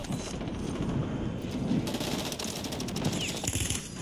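Gunfire in Call of Duty on Rebirth Island: bursts of rapid automatic fire with a quick, crackling rhythm, heaviest in the second half and fairly distant, with no talking.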